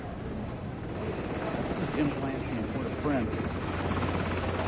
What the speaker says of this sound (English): Our information is these appear to be staff helicopters.